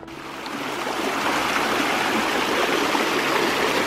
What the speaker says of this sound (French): j'ai entendu le bruit d'une petite cascade